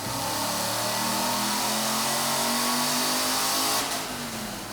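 A supercharged 2014 Ford Mustang GT V8 running loud and close, its engine note rising steadily as it revs, then easing back slightly near the end; no talking.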